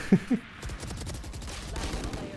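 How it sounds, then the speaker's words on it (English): Marshal sniper rifle shots fire in the Valorant video game. Two quick, sharp cracks come close together at the start, then a voice talks over the game. "nice shots with the Marshall"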